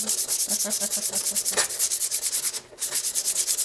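Continuous rhythmic scraping and sanding of a surface being prepared for paint, a steady back-and-forth rasp repeating about eight times a second, close and fairly loud with a brief dip near the end.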